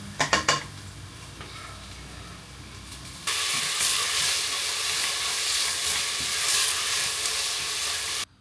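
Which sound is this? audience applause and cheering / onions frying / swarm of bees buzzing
onions frying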